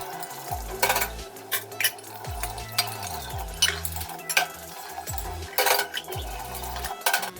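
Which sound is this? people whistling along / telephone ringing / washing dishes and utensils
washing dishes and utensils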